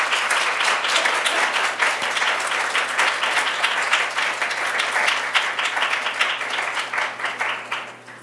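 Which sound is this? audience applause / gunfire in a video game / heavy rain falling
audience applause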